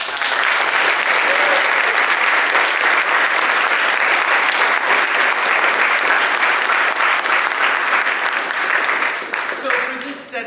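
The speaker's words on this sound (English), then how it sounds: "I would like for us to give him a round of applause" A full room of concertgoers at a lullabies and stories concert gives a long, loud round of applause. The dense clapping holds steady for about nine seconds, then thins and fades near the end.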